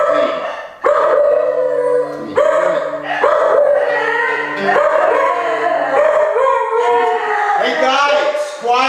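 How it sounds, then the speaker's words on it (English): Two dogs howl and bark loudly close by, their long wavering howls overlapping with sharper yips throughout. "That's my dog. My dogs, 2 dogs."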